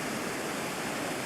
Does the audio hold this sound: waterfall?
yes